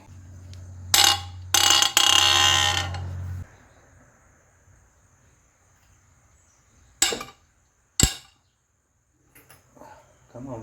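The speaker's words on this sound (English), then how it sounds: "next I'm going to remove all the cylinder head bolts and try to remove the cylinder head" Hand ratchet working on cylinder head bolts of a Ford 2.7L EcoBoost engine during a teardown: a few short bursts of rapid clicking, the longest about two seconds, then two sharp isolated clicks after a quiet gap, close by.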